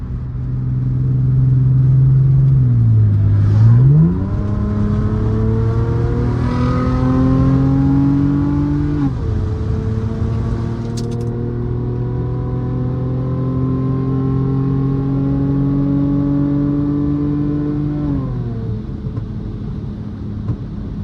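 A straight-piped, tuned Mercedes W204 C350 pulls hard on the road, its loud exhaust drone rising steadily in pitch through gears with brief dips at shifts, heard from inside the car across a long sustained acceleration.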